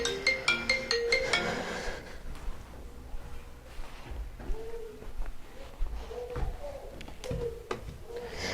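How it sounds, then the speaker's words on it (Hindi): A phone ringtone chimes in a short rhythmic burst of bright tones at the start, then fades into quieter background clatter and a few murmurs. "फोन अंजलि का।"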